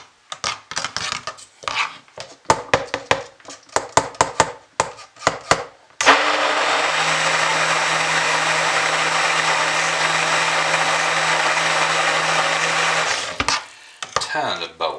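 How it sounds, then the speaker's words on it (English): Some clinking and tapping comes first, then a low-powered stick blender mixing soap whirs steadily for several seconds before switching off. "I use this stick blender as opposed to my old one because this one's a little bit less powerful"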